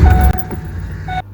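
A car is unlocked and started: keys jangle and a latch clicks close by, then a short engine crank and catch, with a brief chirp near the end.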